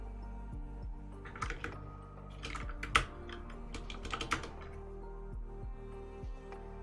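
Computer keyboard typing in irregular bursts of close, crisp keystrokes, with a few louder clacks scattered through a quiet room and no voices.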